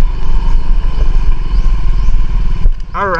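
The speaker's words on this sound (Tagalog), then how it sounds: "Magpapark ng motor mga Lods" A motorcycle engine idles loudly and close as it is parked, a fast chugging putter that cuts off near the end before a whining, warbling tone and a voice briefly follow.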